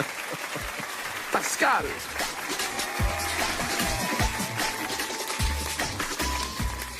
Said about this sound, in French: Ça suffit, arrêtez d'applaudir.